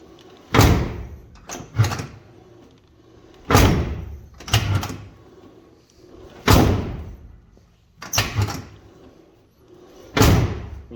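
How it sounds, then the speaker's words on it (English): A 1957 Chevy truck door swings open and shuts repeatedly, five loud slamming thuds with metallic latch clicks in pairs, spaced a second or two apart, close by with no talking. "getting the door to open and close properly"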